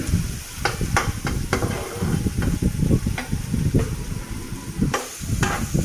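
Fenugreek seeds fry in hot oil in a pan as spices are cooked down for a Bengali koi fish curry, a steady close sizzle broken by repeated sharp scraping stirs of a spatula.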